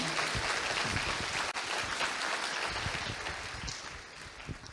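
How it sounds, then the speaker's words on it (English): A banquet audience applauds in a dense, sustained wash of clapping that fades slightly toward the end, with no voices over it. "Let's just give them a round of applause for all they do"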